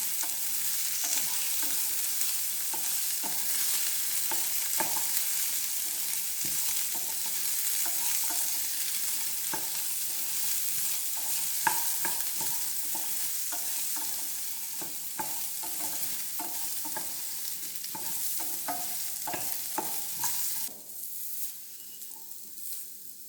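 Pirandai with small pieces of coconut stir-fried in a pan, a steady close sizzle with repeated scraping strokes of the spatula over a long stretch, fading near the end.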